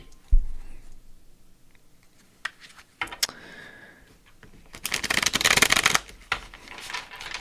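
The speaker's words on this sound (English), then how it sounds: "See what the cards are for today." Tarot cards being shuffled by hand, a few light taps and flicks, then a dense riffling burst near the end, close and fairly quiet.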